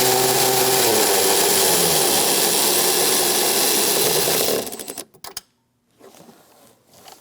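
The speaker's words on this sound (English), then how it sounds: "Using a 10mm socket, we're going to remove this nut." A 10mm socket working on the nut that holds a 2000-2006 Mini Cooper tail light, heard as a loud continuous whirring ratchet-tool drone for about four and a half seconds, then cutting out into near silence with a few small clicks.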